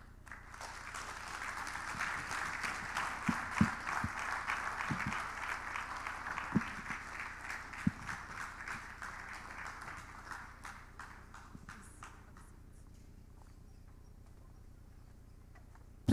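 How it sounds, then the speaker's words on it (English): A conference audience applauds a speaker at a journalism discussion event with Google News VP Richard Gingras, a sustained wash of clapping that builds, holds for about ten seconds, then fades away. "Please, once again, a round of applause for Richard."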